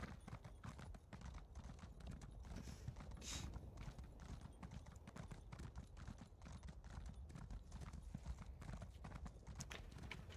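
Horse hooves clip-clop steadily while riding in The Elder Scrolls Online, a continuous rhythmic gallop under a dense game soundscape.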